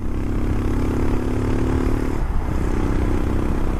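A Royal Enfield Himalayan motorcycle rides up the Via Gellia, a winding bikers' road in England, its steady single-cylinder engine hum close and continuous under wind rush, with a small dip in pitch midway.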